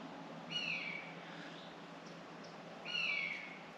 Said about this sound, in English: I can't remember what the name of bird of prey it is, but it's circling around for quite a while now.